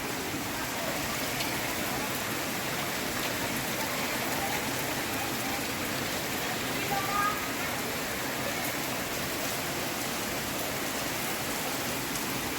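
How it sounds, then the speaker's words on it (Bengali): Heavy rain pours steadily over a Bengal village, a dense, even hiss of drops on surfaces that fills the whole stretch without letting up, with faint voices now and then. "প্রায় কুড়ি মিনিট ধরেই এরকম বৃষ্টি হচ্ছে ভালো বৃষ্টি হচ্ছে"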